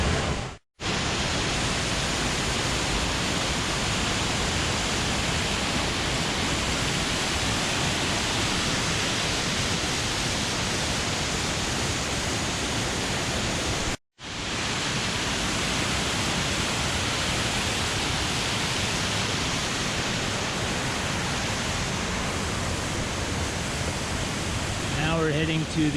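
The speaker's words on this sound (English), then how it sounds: "heading to the lower level of the waterfall." Waterfall at Cascada de los Caballeros in Suaita, Santander, Colombia: a loud, continuous roar of falling water heard close up, broken by two brief dropouts.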